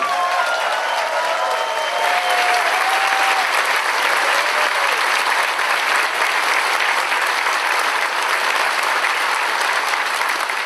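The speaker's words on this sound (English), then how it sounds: "we will start off with a round of applause for you guys for pulling up great on the theme" Convention audience at a closing ceremony giving a round of applause, loud, even and sustained clapping from a large crowd, with a few faint voices at the start.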